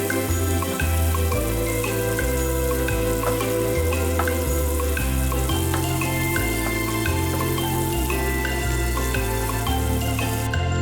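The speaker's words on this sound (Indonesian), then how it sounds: "Aduk sejenak." Shrimp stirred in Worcestershire sauce in a frying pan, a steady continuous sizzle with soft stirring scrapes, heard alone over a constant low musical backing.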